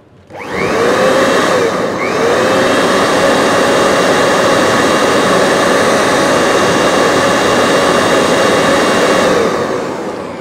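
A homemade turbo wood stove roars fiercely under fan-forced air, a loud, steady, close whooshing rush that swells in at the start and holds constant before easing slightly at the end.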